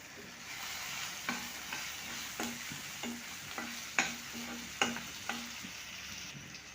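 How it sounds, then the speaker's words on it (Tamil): Curry leaves and dried chillies sautéing in a pan, a steady close sizzle broken by repeated sharp scrapes and clinks of a spoon stirring at a regular pace. "கருவேப்பில்லை போட்டு நல்லா வதக்கிக்கிட்டு இதில் சோயா சாஸும் டொமேட்டோ சாஸும் சேர்த்துக்கணும்"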